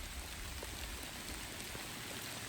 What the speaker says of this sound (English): Never been caught up in a hailstorm like this.